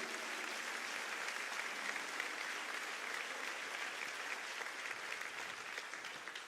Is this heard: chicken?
no